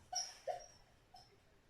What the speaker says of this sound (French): si vous entendez des bruits bizarres, c'est mon chien qui rêve